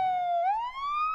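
An ambulance siren wails in a single sweeping tone, dipping then rising again, loud and close with no voices.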